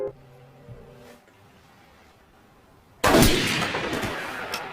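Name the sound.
gunshot in a film scene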